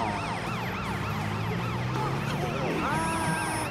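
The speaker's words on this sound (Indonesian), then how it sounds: "Nyalakan lampu dan sirene, dan semua orang akan bergerak untuk memberi jalan." An ambulance siren from a children's truck cartoon wails in repeating rising and falling sweeps throughout, over a busy background.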